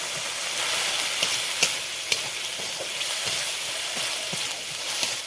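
Egg curry with cumin and coriander paste cooking in a pan with a little water, a steady broad sizzle with a few soft stirring clicks and scrapes throughout, close and fairly loud.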